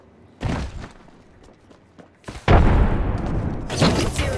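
Frag grenade going off in an arena shooter game: a sharp blast lands near the middle of the clip and a dense, roaring burst of noise follows, with a smaller thump earlier and some in-game voice lines mixed in.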